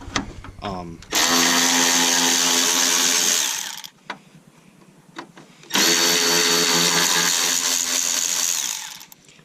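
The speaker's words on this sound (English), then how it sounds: "I'm going to use this Milwaukee M12 battery operated wrench" Milwaukee M12 battery-powered impact wrench working on the driver-side front fender bolts of a 2003-2007 Chevrolet Silverado or GMC Sierra, firing in two loud sustained bursts of a few seconds each, separated by a short pause.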